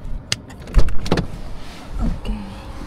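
A car is locked at close range: a few sharp mechanical clicks and a heavier clunk in quick succession, then quieter rustling.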